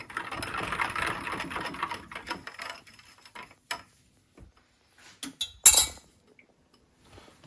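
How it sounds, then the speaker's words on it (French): Utensils stirring hot milk into a custard mixture for a strawberry tart, with a dense patter of clinking and scraping against a bowl that thins into scattered sharp taps and a loud clink amid near silence. "je mélange le tout"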